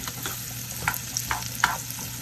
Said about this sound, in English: And I'm gonna let this cook down for a bit.